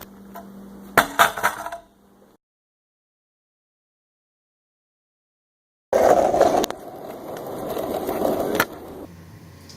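A dropped stunt scooter gives a loud clattering rattle of loose metal parts in two bursts, a short one at the start and a longer sustained rattle after a silent gap.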